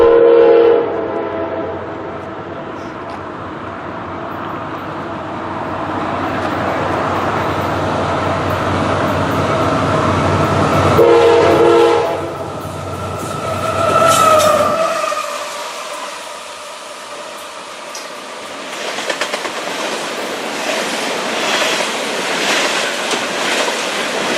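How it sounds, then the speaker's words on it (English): A westbound CSX intermodal freight train led by GE AC44CW locomotive CSX 477 rolls past the Charleston depot, a loud sustained rumble and clatter of passing cars with a horn blast, easing to a quieter rolling tail. "we caught a westbound CSX intermodal train passing by the depot"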